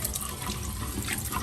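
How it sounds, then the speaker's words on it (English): Cold and warm water run from a tap into a sink in a steady, soft stream, fairly quiet and continuous with no voices. "I like to turn on the cold water and just a little bit of warm water so it's not freezing"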